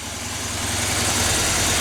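A Harley Davidson Dyna motorcycle idles in neutral, close and steady, with an even low rumble and a slight throb that holds throughout.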